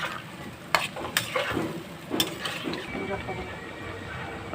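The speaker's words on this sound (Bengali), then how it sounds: "টমেটো জিরে ধনে আর লঙ্কা একসঙ্গে দিয়ে দিলাম এবার কষে নেব ভালো করে" Tomato, cumin, coriander and chili paste sautéing in a pan for a pomfret and potato curry: a steady soft sizzle with a few sharp scraping stirs near the start and middle, with faint talk in the background.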